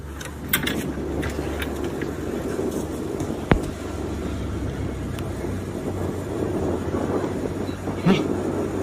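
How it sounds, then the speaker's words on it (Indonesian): An airplane passing overhead, heard as a steady, low broadband rumble that fills the whole stretch, with a single sharp click partway through and a slight swell near the end. "Kok kayak ada suara pesawat guys."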